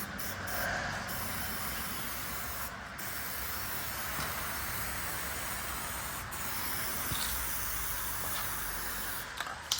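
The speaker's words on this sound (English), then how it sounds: "I'm using weld through primer to keep it from rusting" Zinc-infused weld-through primer hisses from an aerosol can onto a rusty truck's rocker panel, a steady close spray broken by a few short pauses, with no talking.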